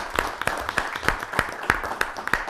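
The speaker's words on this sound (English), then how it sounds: "let's give them all a round of applause for such a terrific day" Sparse clapping from a small audience at a Wareham selectmen meeting, a few steady separate claps that are moderately near and have no voices over them.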